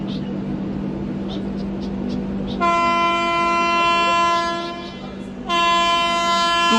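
A superfast express train, number 20810, approaches on the adjacent line to overtake a stopped train and sounds a loud sustained horn twice, with a steady rumble and a brief gap between the blasts.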